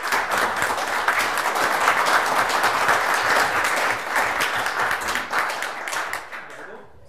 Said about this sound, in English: Please welcome our panelists with a warm round of applause.